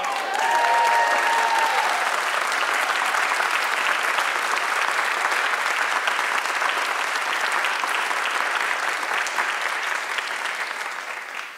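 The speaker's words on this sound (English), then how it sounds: "Papo loves applause, so that was great." A large audience gives loud, sustained applause that fills the room, with a brief high whistle early on. The clapping stays strong, then fades at the end.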